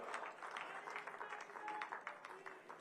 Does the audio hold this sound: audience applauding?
yes